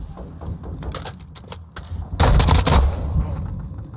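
Rapid gunfire bursts from the video game Call of Duty MW2, including shotgun blasts, with a loud dense volley midway and sharp cracks before it.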